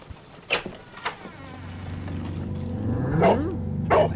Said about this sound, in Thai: โอ้โทบี้เห่าใหญ่เลยเว้ย